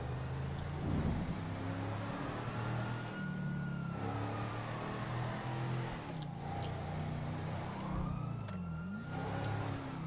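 A car drives in the video game GTA V with a steady engine drone and shifting revs throughout, while faint rising and falling tones sweep over it.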